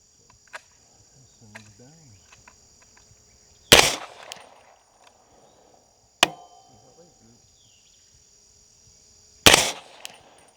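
A suppressed rifle chambered in .300 Blackout, firing subsonic 220gr SMK rounds through a mil-spec trigger, fires three sharp, loud shots several seconds apart, each ending in a brief ringing tail, with crickets chirping softly outdoors between them.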